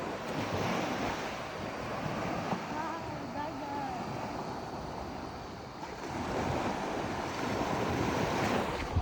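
Sea waves wash steadily onto an island shore at Jomalig, a continuous surf roar mixed with wind buffeting the microphone, with voices faintly present beneath.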